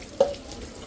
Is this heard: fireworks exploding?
no